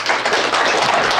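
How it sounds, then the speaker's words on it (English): An audience at an aerial applicator safety meeting claps for a speaker, a brief, dense patter of many hands that is fairly loud and close. "let's give Jakey a round of applause"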